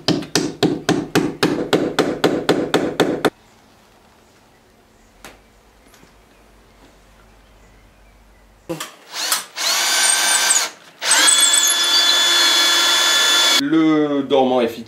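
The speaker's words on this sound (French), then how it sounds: "les chevilles en nylon hélicoïdal de chez Fischer qu'on va rentrer donc en force" Fischer helical nylon wall anchors are hammered into Syporex aerated concrete while a window frame is fitted. A quick run of sharp, close hammer blows is followed by near silence, then bursts of a whining power drill or screwdriver.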